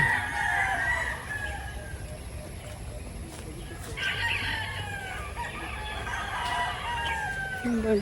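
Chickens cluck and a rooster crows nearby, with faint voices talking in the background.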